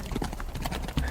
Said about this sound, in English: So the horses, beautiful beasts, sort of clip-clop by.